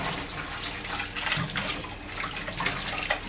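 Tap water runs steadily over juicer parts being rinsed after juicing carrots, a close, continuous splashing hiss with small irregular bursts as pieces are moved under the stream.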